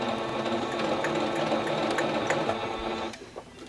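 A sewing machine stitches a satchel handbag in a steady, continuous mechanical whir at close range, slowing and stopping near the end with no talk.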